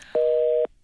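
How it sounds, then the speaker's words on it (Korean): A telephone line tone after a radio phone-in call drops mid-broadcast, one clean steady electronic beep lasting about half a second, sharp and isolated against near silence. "잠깐 전화가 끊겼네요"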